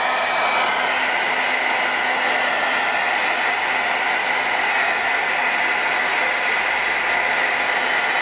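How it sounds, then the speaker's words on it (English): A Milwaukee heat gun blows hot air to heat-set stamping ink on paper, a loud, steady hiss-roar running close and unbroken throughout with no voices. "let's heat set this a little bit. I have my Milwaukee heat gun."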